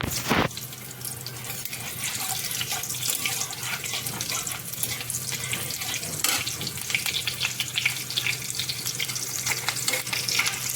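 Raw green chillies frying in a pan while cooking poha, a steady broadband sizzle that runs evenly for about ten seconds, close and fairly loud, with no talking.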